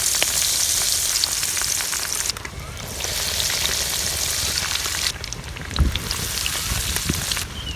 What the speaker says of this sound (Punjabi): ਹੁਣ ਇਹਨੂੰ ਆਇਲ 'ਚ ਸ਼ਾਮਿਲ ਕਰਾਂਗੇ ਤੇ ਆਇਲ ਵੀ ਬਿਲਕੁਲ ਗਰਮ ਹੋ ਗਿਆ ਹੈ